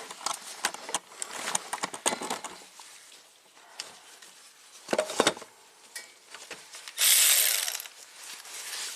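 A fuel line fitting on an '85 Oldsmobile is unscrewed with a hand tool, giving a run of quick ratcheting clicks and metallic scrapes, then a short pause and a brief hiss-like burst, close and quiet.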